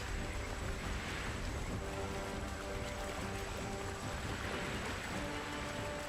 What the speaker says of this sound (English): Feels very immersive, all this rain.